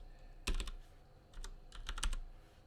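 Fingers tap on a computer keyboard in two short bursts of quick clicks separated by a quiet pause, close and fairly soft.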